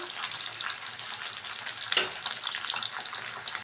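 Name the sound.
rohu fish frying in oil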